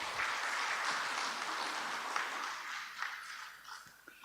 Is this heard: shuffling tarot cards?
no